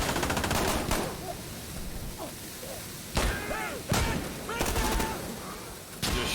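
Gunfire in the tactical shooter game Insurgency: Sandstorm, with several loud bursts and single shots cracking out at irregular intervals over a steady background rumble.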